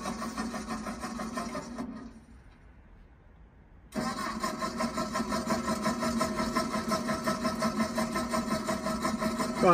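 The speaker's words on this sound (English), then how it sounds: "You think the car is an old engine." A simulated old car engine sound: a rough drone runs, cuts out briefly to near silence, then roars back steadily and slightly louder for several seconds.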